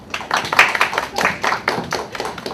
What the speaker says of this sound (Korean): 부원장님이 나오실 때 힘찬 박수 부탁드립니다.